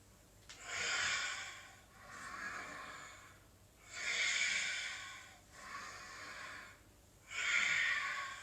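Slow, deep breaths drawn in and let out during a yoga flow, airy and close, rising and falling in an even rhythm of about four breaths with no talking.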